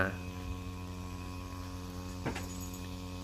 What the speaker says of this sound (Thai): ติดเครื่องลองดู ก็ถือว่า โอเคมากเลยผมประทับใจมากเลยครับ จากปั๊ม ที่สั่งมา